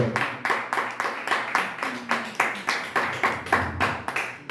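A church congregation at a Sunday service in Montreal claps to acclaim the Lord, a steady, rhythmic run of loud, close handclaps at an even tempo, with faint voices underneath.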